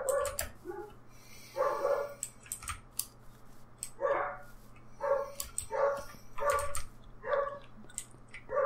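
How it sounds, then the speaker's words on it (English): Dogs barking in the Minecraft video game, a series of short sharp barks in quick bursts with brief pauses, moderately loud over a low steady background hum, with no talking. "Why are my dogs barking at me?"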